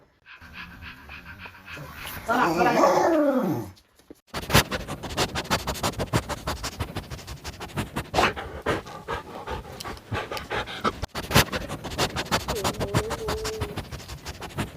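A dog pants rapidly and close by in a quick, continuous rhythm after a short whining whimper, while a person speaks briefly.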